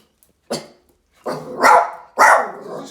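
A terrier barks close by in sharp bursts: one short bark, then a pause, then two louder, longer barks with a growly edge.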